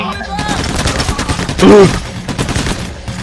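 Gunfire in PAYDAY The Heist, rapid loud shots in a steady rattling burst across the whole stretch, mixed with excited player talk over it.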